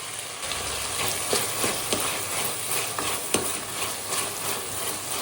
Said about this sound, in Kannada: ಸ್ವಲ್ಪ ಫ್ರೈ ಮಾಡ್ಕೊಳ್ಳಿ.